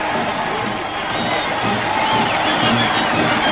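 A wartime street crowd cheers and shouts as troops parade past in 1942, a broad, continuous roar with scattered higher cries throughout.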